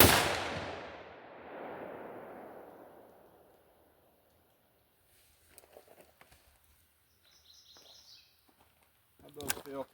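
A single loud rifle shot rings out at an outdoor shooting range while guns are being zeroed, its blast trailing off over a few seconds, followed by quiet rustling, faint handling noises and a sharp click near the end.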